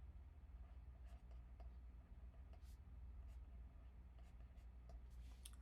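A stylus writing on a tablet screen makes faint, soft scratchy strokes in short bursts over a low steady hum, quiet and close.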